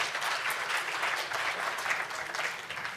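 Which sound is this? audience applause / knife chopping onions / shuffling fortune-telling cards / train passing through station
audience applause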